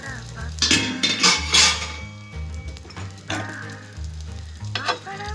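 Pizza frying on an oiled tawa, with a steady close sizzle broken by repeated scraping and clinks of a utensil against the pan.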